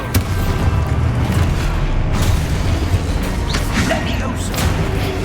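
In the Hogwarts Legacy video game, the Expulso explosion spell goes off as a loud, dense rumbling boom. Crackling debris and whooshing bursts layer over a continuous heavy roar.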